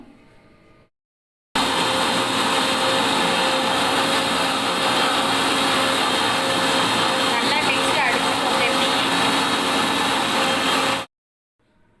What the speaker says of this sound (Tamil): நம்ம இப்போ மிக்ஸில் நம்ம அடித்து எடுத்துக்க போகிறோம்